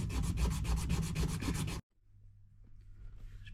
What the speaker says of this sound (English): Let's get all that paint cleaned off now so I can solder this onto there.